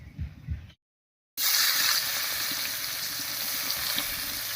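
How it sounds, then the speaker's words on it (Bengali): Chopped onion dropped into hot oil with dry red chilli and five-spice seasoning, a sudden loud sizzle after a brief silence that settles into a steady crackling fry, close up. "ফোড়নটা ভাজা হয়ে গেছে এবার এর মধ্যে দেব পেঁয়াজ কুচি"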